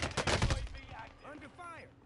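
Rapid gunfire in a video game battle royale match, a dense burst of shots up front that fades into quieter game sounds and brief chirps, with a player talking over it.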